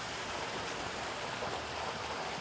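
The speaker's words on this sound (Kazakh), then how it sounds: "Мына жерде қазір мынау сарқыраманың дауысы" Artificial waterfall beside a house swimming pool at a hi-tech home, a steady, full broadband rush of falling water that continues evenly throughout with no voices.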